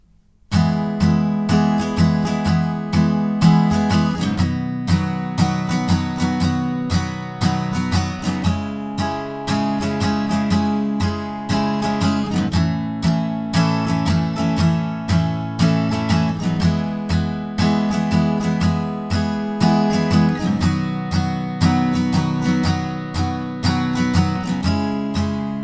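An acoustic guitar strums the verse chord progression of a song in a steady, repeating rhythmic pattern, loud and close with no voices.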